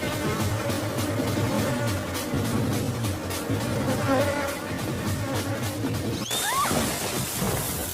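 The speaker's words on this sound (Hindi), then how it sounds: "ये मक्खी नहीं, मधुमक्खी है।" A bee buzzing close by in an indoor setting, a steady droning hum that carries through most of the stretch, with a brief squeaky chirp near the end.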